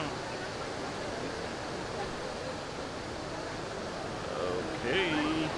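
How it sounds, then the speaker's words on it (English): Steady rushing roar of water at Athabasca Falls in Jasper National Park, a continuous broadband wash heard at moderate distance, with faint voices emerging near the end. "Flowing water."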